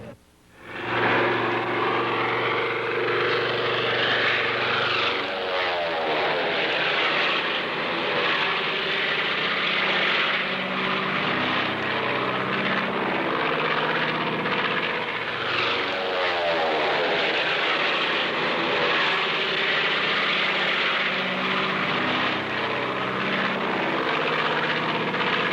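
A propeller-driven aircraft flying aerobatics roars loudly and steadily throughout, the engine note sweeping up and down as it maneuvers, with no voices.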